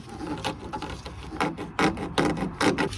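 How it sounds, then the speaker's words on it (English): A small hand file rasps across the freshly cut bottom edge of a metal car brake line, giving close, scratchy strokes in an uneven rhythm that grow louder toward the end. "I'm just going to tidy up the bottom edge with a little file."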